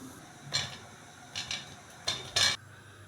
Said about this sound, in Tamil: தேங்காய் பால் கொதி வந்தோடனே கொழுக்கட்டையை சேர்த்துக்கலாம்